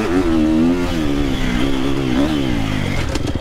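Triumph TF 250-X motorcycle engine revving loudly and steadily up close, its pitch rising and falling in waves through the whole stretch, with a faint clatter near the end.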